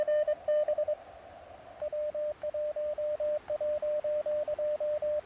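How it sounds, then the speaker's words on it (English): Morse code sidetone from a sticking key on a radio set outdoors in cold, snowy winter conditions: a steady mid-pitched beep sounds in short bursts, breaks off, then resumes as a rapid, regular string of clipped tones. "Oh, there's my key sticking."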